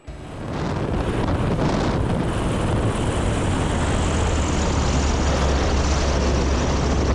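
A loud, steady roar of a light bush plane's propeller engine landing on a short gravel strip, swelling quickly at the start and holding a dense, rumbling drone throughout.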